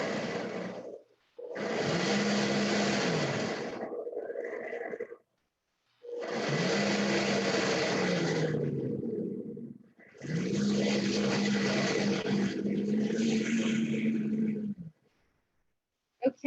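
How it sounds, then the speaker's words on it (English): A very powerful kitchen blender mixing ceviche ingredients: three long bursts of loud whirring motor roar, each several seconds, with a pitch that rises and settles, separated by brief silences. "This is a very powerful blender."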